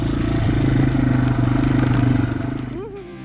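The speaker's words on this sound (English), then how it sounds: "And I'm kind of lugging on third gear." A Yamaha TW200 motorcycle engine lugs at low revs in third gear while climbing uphill, a loud, steady pulsing thump close up that eases slightly near the end as the revs shift.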